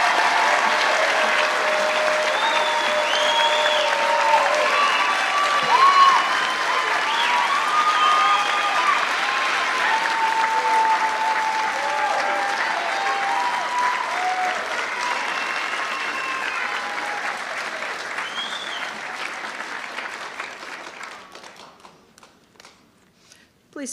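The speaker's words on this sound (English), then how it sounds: "give them a big round of applause for this talented group" Sustained applause from a large seated audience of students at a white coat ceremony, a dense steady clapping that carries for about twenty seconds before thinning out and fading near the end.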